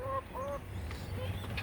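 Backyard geese honk in a couple of short nasal calls near the start, followed by a fainter honk. Low rumbling background noise continues throughout.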